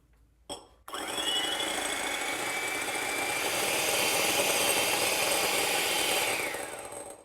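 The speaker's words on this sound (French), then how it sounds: "Puis montez les blancs en neige à l'aide du fouet électrique." An electric whisk beating egg whites in a bowl starts after a brief knock and runs as a steady, bright motor whir with a busy rattling edge, continuous and close, with no talking.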